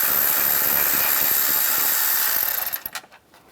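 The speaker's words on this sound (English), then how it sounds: "Now use a 10mm socket. Take this bolt out." A 10mm socket wrench takes a bolt out of a bracket on a 1997-2001 Honda CR-V during radiator cooling fan work, giving close ratcheting and mechanical clicking over steady noise that cuts off abruptly near the end.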